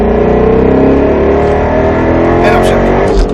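A Roush Mustang RS3 on the Speed Vegas track roars loudly from inside the car, its engine note sliding in pitch as revs change, with a voice speaking over it.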